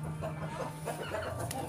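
Native hen clucking softly on a Filipino backyard farm as she settles to lay, a few low repeated clucks close by with steady ambient hum behind.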